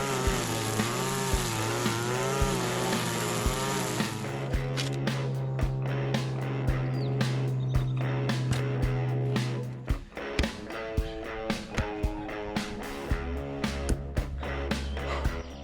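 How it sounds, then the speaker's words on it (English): A gas-powered weed whacker cutting overgrown grass around a pool construction site, its engine whining loud and steady up close, shifting in pitch as it bites into the growth, with a low rumble and brief pauses. "get the weed whacker and clean all of this grass up"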